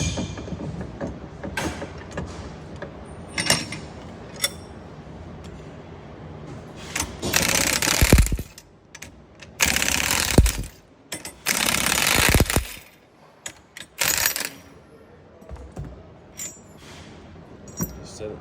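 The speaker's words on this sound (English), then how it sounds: "I'm going to put it in my vise and start off by taking off the end cap." Metal end cap being worked off a Flo-tite 300/Multi Choice series ball valve clamped in a vise, giving scattered metallic clinks and rattles with several louder bursts of scraping and tool noise.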